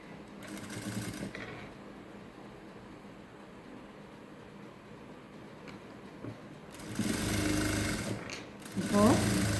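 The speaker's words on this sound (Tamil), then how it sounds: "இதனோட மேலே நம்ம ஸ்டிச்சிங் ஆல்ரெடி போட்டாச்சு. உள்ளுக்குள்ளே திருப்பி இங்கேயும் நம்ம ஒரு ஸ்டிச்சிங்கே பண்ணிடலாம்." A sewing machine stitching a peplum top runs with a faint, steady mechanical whir that grows louder in bursts near the end, and a voice speaks over it in places.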